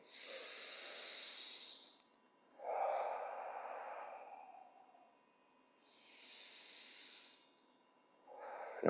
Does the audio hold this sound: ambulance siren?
no